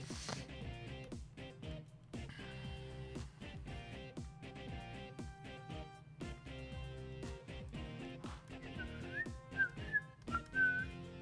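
A person whistles a tune over faint background game music, the melody rising into several clear, bright whistled phrases toward the end of the stretch.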